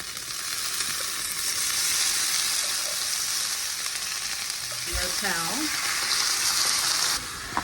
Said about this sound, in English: I'm gonna saute half of a red onion. I'm gonna add in a can of corn.